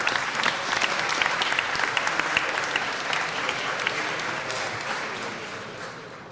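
Applause and cheering from a city council chamber audience greeting Thai Business Week, steady dense clapping across the whole stretch that tapers slightly toward the end.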